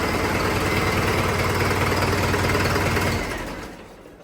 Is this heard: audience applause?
no